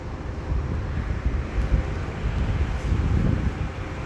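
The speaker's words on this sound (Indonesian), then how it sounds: "dingin anginnya bang ya." Cold wind gusts across the high ground of Taif in Saudi Arabia, a steady low buffeting roar of wind noise against the microphone, swelling and easing without pause, with no voices.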